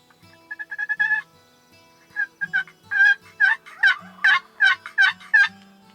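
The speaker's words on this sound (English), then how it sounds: "it sparked several gobbles and hen talking as these birds came in closer" Wild Merriam's turkeys in Wyoming gobble in a series of loud, rattling bursts, with softer hen clucks and yelps between them, fairly close and repeated over several seconds.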